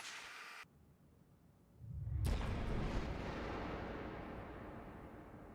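A suppressed .223 rifle fires a single shot, a heavy muffled boom with a low thump that rolls into a long fading decay, heard alone without talk.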